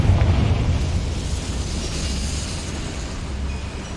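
The Confringo fire spell explodes in Hogwarts Legacy as a loud, sustained roaring rumble that fills the whole moment and eases only slightly, with no talking.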